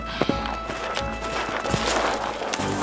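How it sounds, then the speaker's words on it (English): Hooves of a horse carrying a rider approach with a steady clip-clop of hoof strikes over a broad, busy background, moderately loud. "On the horizon, just west of the setting sun, came a horseback rider."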